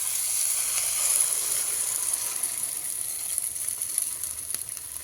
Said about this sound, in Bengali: দিয়ে বাঁধাকপির এই যে অংশটা, এটা পুরো এখানটায় ঢেলে দেবো